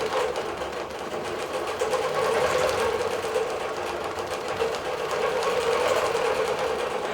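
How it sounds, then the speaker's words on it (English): A digital quilting machine stitches across a small quilt, producing a steady, continuous mechanical whir with a fast rhythmic chatter that holds at an even level throughout. "It's going to quilt to the other side"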